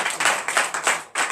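Rhythmic group clapping at a church deliverance service, about six sharp, regular bursts in acclamation to Jesus, fairly close.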